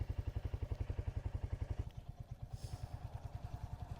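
A Royal Enfield Hunter 350 motorcycle rides along with a steady, rapid thumping single-cylinder exhaust beat, close and even, the pulse loosening slightly as the throttle eases partway through.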